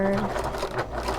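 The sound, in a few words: sewing machine stitching a bag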